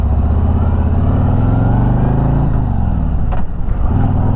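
A 2021 Harley-Davidson Road Glide Special motorcycle pulls away from a red light, its loud, close engine droning steadily with a rising rumble and shifting pitch partway through, alone without talk.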